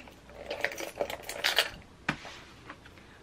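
Keys jingle and clink as they are dropped into a small Fendi Nano Fendigraphy leather bag, a few light metallic rattles followed by one sharper clack, close and alone.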